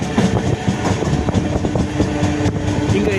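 A train rolls toward Chengalpattu junction railway station, its wheels clacking rhythmically over rail joints beneath a steady close rumble from inside the moving carriage.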